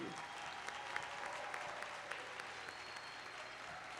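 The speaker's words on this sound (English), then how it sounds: "Let's have one more round of applause for the graduating class of 2021." Applause from a commencement audience for a graduating class fills the hall, a steady dense wash of clapping that stays even and fairly distant throughout.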